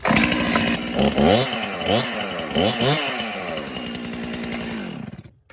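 A chainsaw with a thrown chain clogged by burrs revs hard several times, its engine note climbing and dropping in repeated surges, loud and close before it cuts off at the end.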